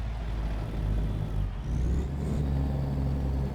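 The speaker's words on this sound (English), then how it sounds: "When it did the downshift, that Jake brake was a little bit better." A Peterbilt 567 truck in American Truck Simulator running a CAT engine sound pack, a deep steady diesel rumble with a shift in tone partway through, loud and close with no voices.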